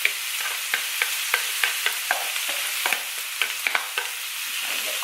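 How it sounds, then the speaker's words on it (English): Chopped onion sizzling in hot olive oil in a pan on a stovetop, a steady frying hiss broken by regular soft clicks of stirring. "oil's heated up, so now I'm gonna add my onion"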